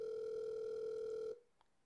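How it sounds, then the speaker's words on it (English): A telephone line ringing in a video game: a single loud, steady electronic ring tone holds for over a second, then cuts off abruptly into near silence. "the line finally rings"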